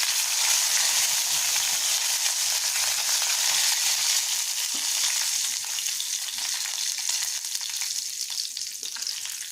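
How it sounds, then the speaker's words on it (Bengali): Curry leaves sizzle in hot oil in a pan after black cumin seeds are tempered, a steady dense frying hiss that fades slightly toward the end, with no talking. "এবার দেবো একটু কারি পাতা।"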